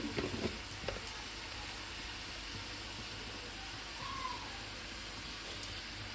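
Ground spices such as coriander, cumin, salt and sugar are stirred in a pan, with a soft, low sizzle and faint scraping that stays quiet and even, broken by a few light utensil taps.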